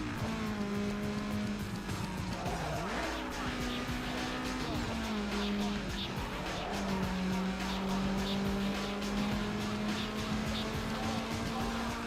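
Racing car in Need For Speed Underground 2 during a boss race, engine droning steadily with rising and falling revs through gear shifts and occasional tire squeal, loud and continuous throughout.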